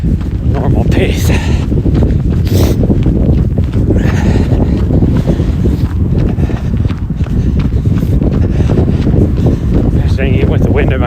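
A strong wind of about 20 miles per hour roars steadily past during an outdoor run through snow squalls, a loud continuous buffeting with footfalls thudding beneath it throughout.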